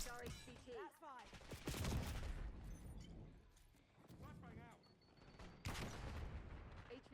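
Gunfire from the Call of Duty Black Ops 6 game, loud dense bursts and booms spread through the stretch, mixed with game voices calling out over the shooting.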